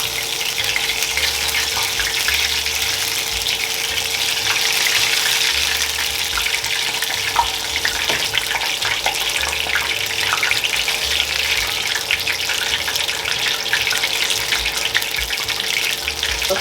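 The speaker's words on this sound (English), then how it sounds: "we are just gonna let these bad boys fry up, y'all" Tex Mex rolls fry in hot oil, a steady, dense crackling sizzle that stays loud and even throughout with no voices.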